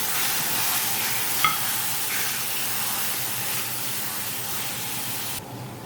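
Ground masala paste sizzles steadily in a hot pan as it is stirred for a Kerala-style beef liver roast. The frying hiss is close and continuous, with a brief scrape partway through.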